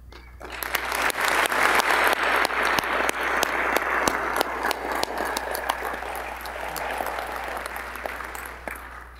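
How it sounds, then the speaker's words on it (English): Convocation audience at a college of osteopathic medicine applauds community partnerships: sustained, dense clapping from a large crowd, building quickly and holding loud before gradually tapering off. "These community partnerships and all they represent deserve a round of applause as well."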